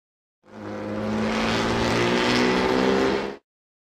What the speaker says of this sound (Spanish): Coche.